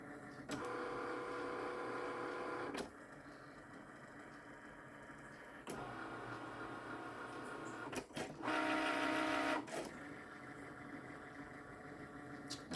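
A Cricut cutting machine runs along registration marks while making an epoxy resin clock craft, giving a steady mechanical whir in several bursts, with one brief higher-pitched stretch near the end and no talking.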